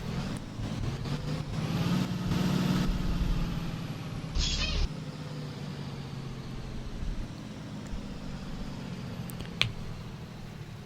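A 1993 Carpenter Ford B700 bus engine in Rigs of Rods revs up to a loud rumbling roar, then falls back to a lower idle, with a brief burst of hissing in the middle.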